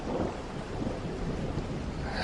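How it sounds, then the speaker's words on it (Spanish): Thunder rolling over a dense wash of heavy rain, a constant noisy downpour with low rumbling throughout and a sharper crack rising at the very end. "la ligera llovizna que caía comenzó a arreciar"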